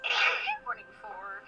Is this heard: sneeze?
yes